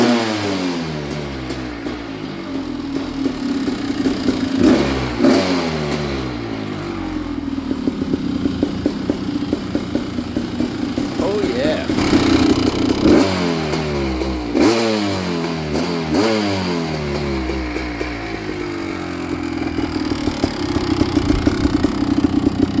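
Engine of a Kawasaki KX500-powered three-wheeler revving hard and repeatedly, rising and falling in pitch over a constant loud two-stroke drone, close by with no talking.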